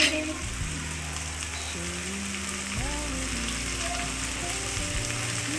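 Okra sizzles steadily in a hot pan, a dense close crackle running continuously beneath sustained tonal background sounds.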